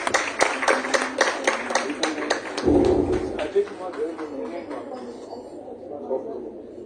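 An audience at a Bharatanatyam dance performance event claps in a round of applause, sharp dense claps at first that thin out and fade, with chatter and a voice in the background.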